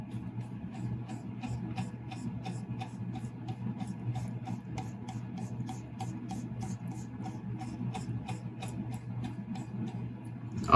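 Sharpened blade of a CRKT Pilar 3 pocket knife whittling a single hair, heard as faint, even rasping with small regular ticks against a low steady hum, no voices.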